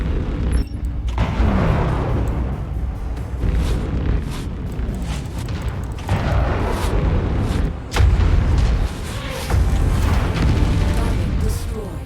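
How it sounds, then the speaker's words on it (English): MechWarrior 5: Mercenaries combat with repeated heavy missile launches and booming explosions rolling one after another, loud and close, under occasional speech. "Providing some missile support."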